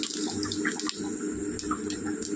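Cumin seeds sizzling in hot white cooking oil, a steady crackling hiss that runs evenly throughout at moderate level, close and continuous with faint pops on top.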